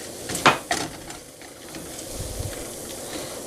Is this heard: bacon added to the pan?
yes